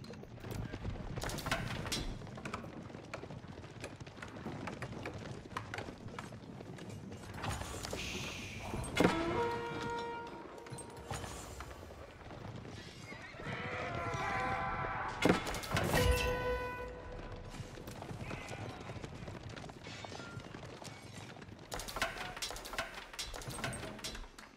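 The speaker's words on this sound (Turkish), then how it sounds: "Arkadan atlar geliyor." Horses approaching in Age of Empires IV, a busy clip-clop of hooves mixed with clanking battle and unit sounds, steady and moderately loud throughout a crowded real-time strategy soundscape.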